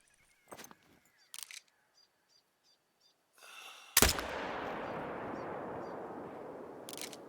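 A single loud rifle shot in theHunter: Call of the Wild, preceded by quiet clicks and a short rustle, then a sharp crack with a long rolling echo decaying into the distance.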